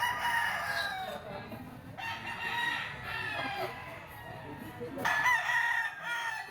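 A yellow-legged bull stag gamecock crows repeatedly, in loud hoarse calls close by, with a faint murmur of other sounds behind.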